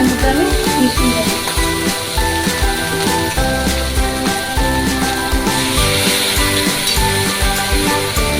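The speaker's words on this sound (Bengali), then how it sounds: "তো এই ওলকচুটা এর মধ্যে আমি মিশিয়ে দেবো।" Boiled elephant foot yam is mixed into a pan with fish head cooking, giving a steady loud sizzle overlaid with scraping spatula strokes throughout, close and continuous with no pauses.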